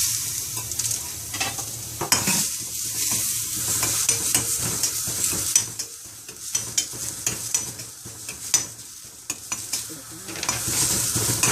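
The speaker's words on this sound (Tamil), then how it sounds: "நல்லா வெடிக்கவும், நல்லா சடசடன்னு வெடிக்கும்போது அதை கொட்டிட்டு" Sesame seeds roast in a pan, giving a steady dry sizzle with a scraping stir and frequent sharp little crackles and pops scattered throughout, close and moderately loud.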